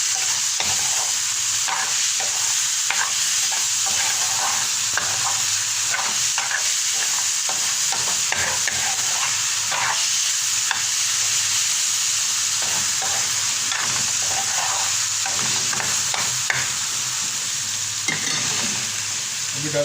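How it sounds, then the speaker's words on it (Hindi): Ginger garlic paste sizzling in hot oil for coriander chicken, a constant loud hiss with rapid rhythmic scraping of a spoon stirring the pan, close up and uninterrupted, no talking. "इसको भूनेंगे"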